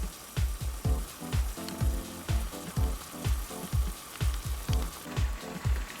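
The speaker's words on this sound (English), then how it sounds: "So vegetables are boiling almost at very high heat" Pav bhaji vegetables boil at high heat, a rhythmic series of close, bursting plops with a hissing sizzle underneath.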